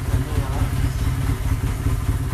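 An old motorcycle engine runs just after being started, a steady close chugging idle with a rough low rumble and clatter, with a person talking faintly under it.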